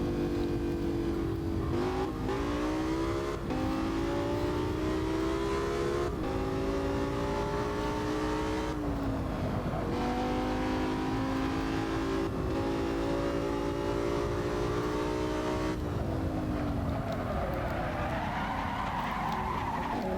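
A race car engine in the Assetto Corsa driving game, played with a DIY steering wheel, revs loudly and steadily, climbing and dropping through repeated gear shifts, with tire skidding near the end.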